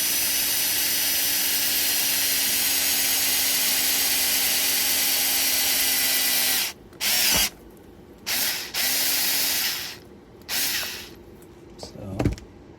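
A step drill bit bores a hole into a Redcat Valkyrie MT RC truck, with a loud, steady grinding whir for several seconds, then a few short bursts separated by pauses.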